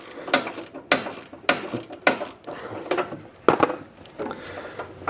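Ratchet socket wrench clicking on a control arm bolt of a Chrysler 300 during front control arm removal, close and loud bursts of rapid ratcheting in repeated strokes with short pauses between.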